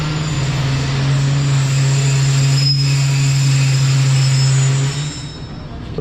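Tezgam passenger train pulling into Jhelum station, its wheels squealing in a loud, sustained metallic screech over a heavy rolling rumble that fades as it slows.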